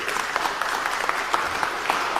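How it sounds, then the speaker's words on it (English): Steady, dense applause from an audience at a Georgia NAACP Day at the Capitol event, a continuous wash of many hands clapping close by with no talk over it. "give him a hand and an applause for the work that he's already done"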